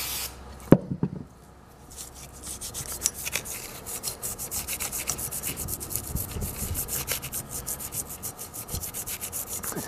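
A Scotch-Brite pad rubs and scours a part of an antique Century repulsion-start induction electric motor, giving close, rhythmic scratchy strokes after a brief clunk at the start.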